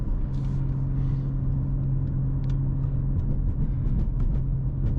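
A 2023 BMW M3 Competition engine drones steadily and loudly through a curve at about 60 mph, a deep constant rumble with a sustained low hum and faint tire and road noise throughout.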